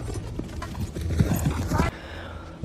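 Horse hooves clatter in a fast clip-clop rhythm in a dramatic film scene of a rider galloping off, loud and busy with overlapping effects and voices, then dropping abruptly to a quieter background near the end.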